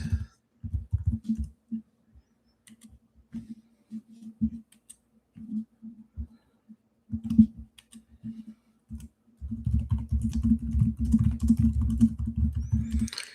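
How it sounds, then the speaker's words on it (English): Bursts of computer keyboard typing come in short clustered runs with pauses between them, then settle into a denser, steady stretch of tapping near the end, close and fairly loud. "I will be typing, taking notes."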